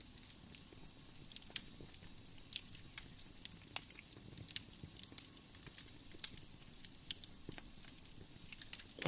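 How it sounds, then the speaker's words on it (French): A fire crackles in a warm mountain cave, giving sparse, sharp pops and snaps scattered over a soft, steady low rumble. It is quiet and close, with no voices. "le feu qui crépite"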